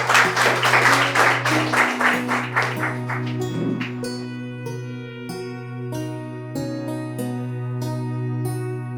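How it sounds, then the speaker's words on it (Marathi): Audience applause greets Rani Durve at a Marathi reading event, a burst of clapping for about four seconds that fades out under a steady sustained musical tone and background hum. "राणी दुर्वे यांचे आपण टाळ्या वाजवून स्वागत करूया"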